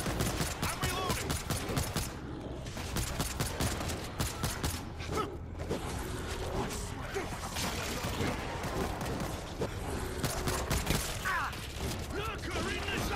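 Gunfire in the World War Z video game, dense rapid clattering of automatic weapons firing continuously with mechanical rattles, under shouting voices.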